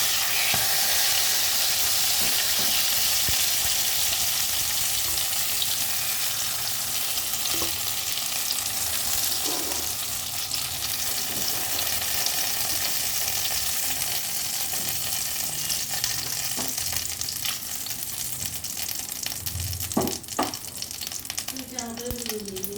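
Pointed gourd pieces fry in hot oil with a dense, continuous sizzle and hiss, close and loud. Occasional scrapes and clinks of stirring sound through it.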